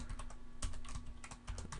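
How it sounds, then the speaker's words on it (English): Rapid keystrokes on a computer keyboard during a C++ programming session, with irregular clusters of clicks recorded close to a microphone placed right in front of the keys; no voices. "Where I have the mic in front of my keyboard, it's kind of hard to type accurately"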